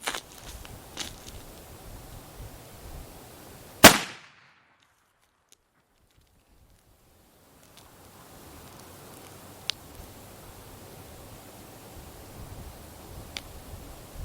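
A rifle in a long-range shooting setup fires one loud, sharp shot close by, then the recording drops out briefly and a few faint distant pops and ticks follow outdoors.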